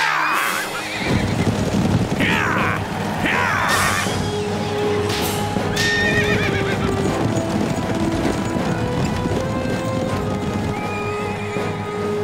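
Cartoon racehorses gallop in a race, with steady clip-clop hoofbeats and loud whinnies and neighs over an ongoing crowd-like background, close and continuous for the whole stretch with no talk.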